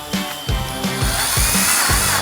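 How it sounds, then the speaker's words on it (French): Screw gun driving plasterboard screws through a plasterboard sheet into metal rails of a partition frame, giving four short whirring bursts at a steady rhythm, each with a low thump, close and fairly loud. "on vient la visser sur nos rails avec nos vis à placo."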